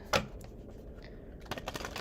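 Tarot cards being shuffled by hand in quick, crisp bursts, with a sharp riffle at the start and a clustered flurry of snaps near the end. It is fairly quiet and close, and no one talks.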